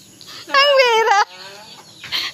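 A chicken gives a loud, close cackling call of about a second, followed by softer clucks and a short squawk, heard alone outdoors.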